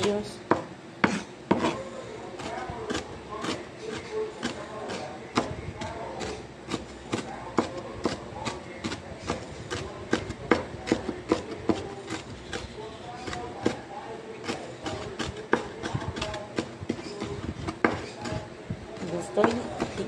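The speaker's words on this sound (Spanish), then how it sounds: "Estoy picando bien picadito para que se hagan los pedacitos bien pequeños." Knife finely chopping food on a cutting board while making pork tacos, a steady run of quick, sharp taps close by, with a voice talking over much of it.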